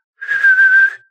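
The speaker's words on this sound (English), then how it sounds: "And he used that whistle too?" A single sustained whistle, steady and high-pitched, about three-quarters of a second long, loud and close with no talk over it.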